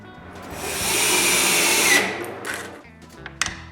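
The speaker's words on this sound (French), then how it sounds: "Ensuite, je peux visser un bout de coulisse santé sur le haut." A power screwdriver drives a screw through a slide rail into a wooden board for a miter saw cabinet, a rising whirring motor burst that stops abruptly, followed by a couple of short clicks and a brief second whir.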